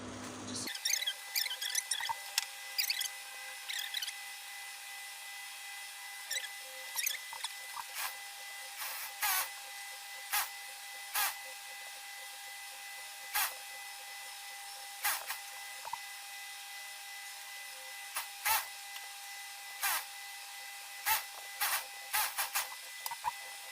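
A sewing machine stitches a half-inch trouser seam in repeated bursts of fast, even mechanical whirring, close and fairly loud, with short pauses between runs and no talking.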